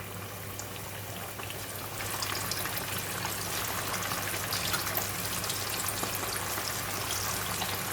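Flour-coated pork belly deep fries in oil with a dense, steady bubbling sizzle that grows louder partway through and continues evenly, close and without voices.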